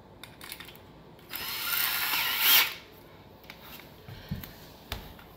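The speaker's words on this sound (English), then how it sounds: "So I'm going to use my drill." A cordless power drill whirs in one rising burst of about a second and a half while installing a Sweepovac, then falls silent apart from scattered clicks and handling taps.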